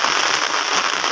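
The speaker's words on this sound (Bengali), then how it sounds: "সকাল থেকে বৃষ্টি হচ্ছে" Heavy morning rain pouring onto a pond, a dense, continuous loud hiss of countless drops with no pauses.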